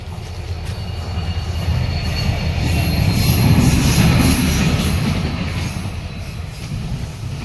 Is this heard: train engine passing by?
yes